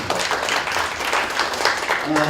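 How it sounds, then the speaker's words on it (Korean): Applause from a seminar audience, a brief burst of clapping with some voices mixed in. "박수를 드립니다"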